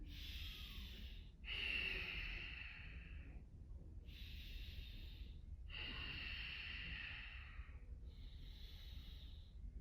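Deep yoga breaths during a runners' yoga workout: five slow, audible inhales and exhales through the nose and mouth, close and airy, each separated by short quiet pauses.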